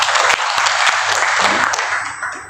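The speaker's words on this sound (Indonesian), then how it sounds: "Dengan tepuk tangannya buat Tuhan." Congregation clapping during a church worship service, loud close applause with a few sharper individual claps, tapering off near the end.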